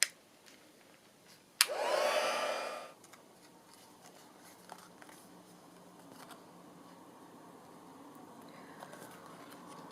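A hair dryer blows air briefly to dry the edge strip of an embossed journal cover, a loud burst of about a second and a half after a sharp click, then quiet room tone.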